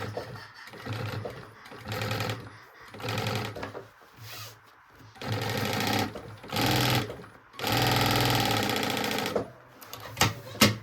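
A sewing machine stitches a drawstring backpack in several loud, steady bursts of rapid needle hum, each separated by short pauses as the fabric is repositioned.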